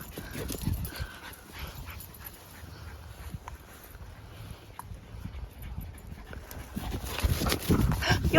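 Dogs at a dog park: scattered paws, panting and soft whimpers over busy outdoor ambience, with a louder, rougher stretch of activity near the end.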